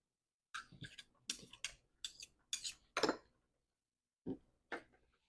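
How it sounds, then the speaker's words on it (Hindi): A spoon clinks against a bowl while mixing cream, mustard paste and mayonnaise into a sauce, a series of close, distinct scraping taps in irregular clusters with short pauses between. "इन सबों को हम मिक्स कर लेंगे।"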